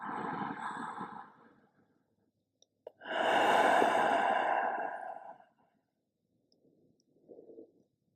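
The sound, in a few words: big cleansing breath during yoga flow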